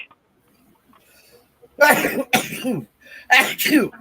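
After a quiet stretch, a couple of sharp, forceful sneezes or coughs burst out close by, one following quickly after another.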